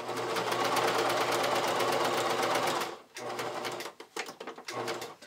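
A domestic sewing machine runs in a fast, loud, continuous burst while stitching a pug-shaped fabric add-on, then stops and restarts in short back-tack runs separated by brief pauses.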